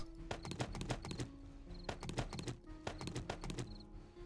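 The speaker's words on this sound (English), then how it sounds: "Lonely footsteps" Footsteps in a video game set at nightfall: a rhythmic series of hard clopping steps in regular pairs, fairly close but quiet, with no talk.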